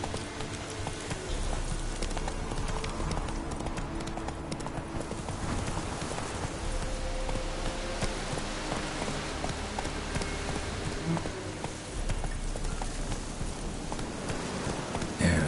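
Roach the horse gallops in The Witcher 3, rapid continuous hoofbeats close by, with rain pattering in the background and no voices.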